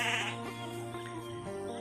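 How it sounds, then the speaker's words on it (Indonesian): Sheep bleat continuously at close range in a remote rural village with no electricity, a wavering, nasal call that runs the whole stretch with several animals overlapping. "Domba-domba na."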